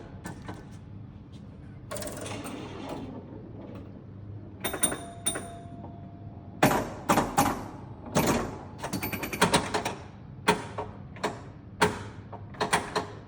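A Bally Evel Knievel pinball machine powering up and starting a game, a low mechanical hum followed by a rapid series of sharp clacks and thumps from relays and solenoids, growing busier and louder toward the end.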